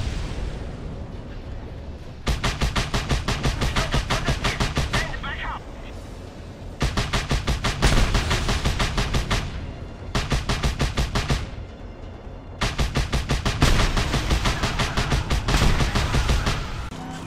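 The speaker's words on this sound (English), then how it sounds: "I'm attempting to drive it with all these guys with machine guns shooting me" Rapid bursts of machine gun fire from enemies in the video game Just Cause 2, several sustained volleys separated by brief lulls, loud and continuous across the stretch.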